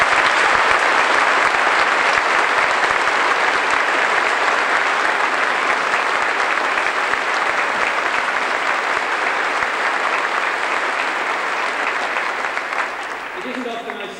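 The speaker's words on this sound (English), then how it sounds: "I hope you will give a great round of applause for them," Sustained audience applause fills a concert hall during a national band performance at De Montfort Hall, steady and dense for most of the stretch before thinning slightly near the end.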